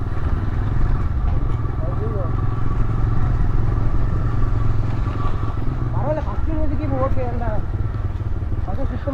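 A motorcycle engine runs steadily in first gear with a low rumble throughout, while people talk over it.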